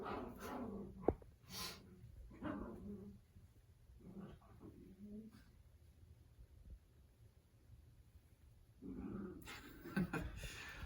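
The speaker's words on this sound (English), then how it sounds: "You might hear our dog growling outside." A dog growls and whimpers faintly in the distance, in short scattered bursts over a quiet background, with a louder rustle near the end.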